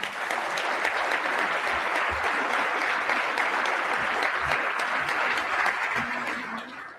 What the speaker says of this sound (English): And big round of applause,